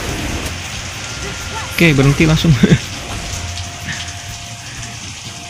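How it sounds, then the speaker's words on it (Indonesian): Steady rain falling as a continuous hiss throughout, with someone briefly speaking over it during a mobile game session. "Langsung lagi hujan cok di daerah gua."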